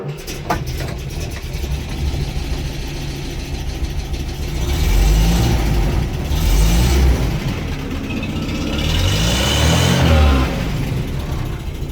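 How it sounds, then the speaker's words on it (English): A 1968 Land Rover Series IIa with the petrol 2 1/4 engine cranks and starts from cold, then runs with a rough, surging idle that swells and eases, close to the microphone. "cold start of a 1968 Land Rover petrol 2 1/4."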